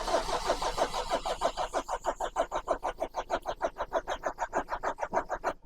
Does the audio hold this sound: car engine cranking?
yes